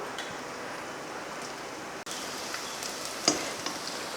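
Chopped garlic, four or five cloves, sizzling in hot oil in a pan, a soft steady crackle with a faint stir or scrape partway through, fairly quiet and with no talking.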